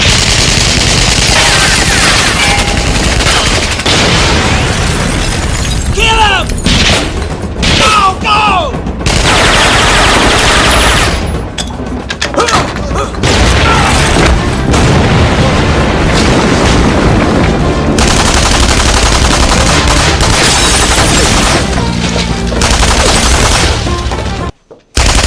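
Heavy gunfire fills a tense action scene, with rapid bursts and loud booming shots crowding together almost continuously, dense and close, before cutting off abruptly at the end.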